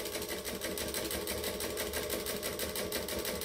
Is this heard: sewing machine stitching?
yes